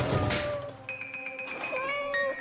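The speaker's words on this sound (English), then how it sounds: "Leave the poor cat alone." A house cat meows several times in quick succession, close and fairly loud, with indoor handling noises at the start.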